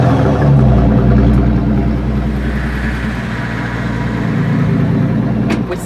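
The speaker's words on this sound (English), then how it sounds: "Listen to what this sounds like. This is a V12 mid-turbo" A Maybach Exelero's twin-turbo V12 running, a deep, steady rumble with strong low-end throb close by, easing slightly in intensity partway through and holding a smooth idle.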